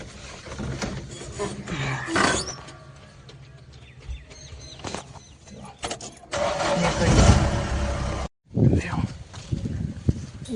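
A car engine cranks and starts in a rural Gujarati village setting, with a loud rumbling burst mid-clip after quieter stretches, cutting out briefly before resuming; voices and scattered background sounds are heard throughout.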